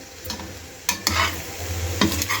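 Vegetables sizzling and spluttering in a hot pan, with a few sharp clinks of stirring over a steady frying hiss, close by and no talking.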